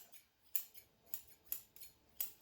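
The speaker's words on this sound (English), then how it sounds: "small pair of scissors." A small pair of scissors trims a cat's fur: four crisp snips spaced about half a second apart, close but quiet, with faint rustling between them.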